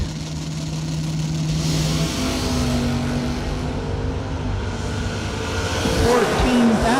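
A 1966 Pontiac GTO engine revs at a drag strip, holding a steady drone before rising sharply near the end, loud and close, with faint announcer-style voices underneath.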